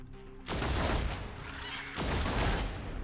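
Two heavy, loud volleys of gunfire in the turn-based game Warhammer 40K Deathwatch, each a dense crackling blast lasting over a second, with the second following shortly after the first.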